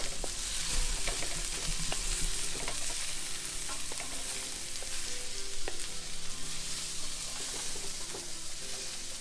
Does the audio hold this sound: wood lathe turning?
no